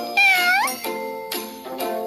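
A cartoon kitten in a children's game gives a loud, clear meow followed by a few shorter mews, with light musical jingles in the background.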